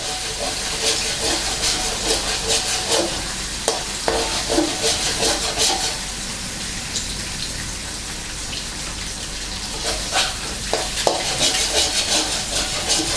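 Egg stir-frying in a hot pan for Thai naem fried rice, a steady sizzle and hiss with scraping stirs and occasional clinks, moderately close and continuous.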